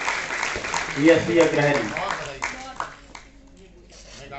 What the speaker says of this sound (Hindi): जोरदार तालियां और स्वागत करिए खंसा निहाल अहमद